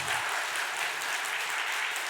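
A church congregation claps together during a Sunday service, a dense steady wash of applause filling the room for a couple of seconds with no talking over it.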